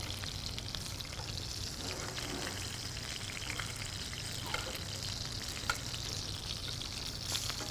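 Ribeye steak sears in a pan while being basted with beef fat, giving a steady, close sizzle and crackle throughout with a few louder spits.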